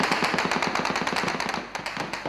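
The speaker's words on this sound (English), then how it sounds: "Gunshot at the Rafah crossing." Rapid bursts of gunfire at the Rafah crossing between Gaza and Egypt, a steady rattling volley of close shots running through the whole moment with a brief lull near the end.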